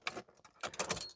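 Keys jangle and scrape as an old-school key is pushed into the ignition of a 30-year-old Lada Niva, in two short metallic bursts close up, with no speech.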